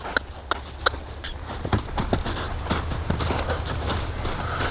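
Hooves of a young horse walking on a line during groundwork training make a clear, irregular clip-clop, close and moderately loud with no talk.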